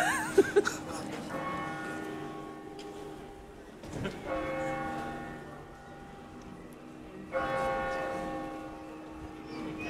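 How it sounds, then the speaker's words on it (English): Church bells ring out in repeated peals with a long resonant hum between strikes, fading and swelling again, heard from a moderate distance over faint street ambience. "The bells. The bells."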